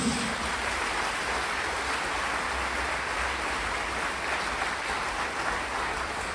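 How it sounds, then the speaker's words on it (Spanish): Church congregation applauding for Jesus during a Spanish-language Catholic Mass, a steady, dense wash of clapping from a large crowd that holds evenly throughout without pause. "Fuerte ese aplauso al Señor Jesús."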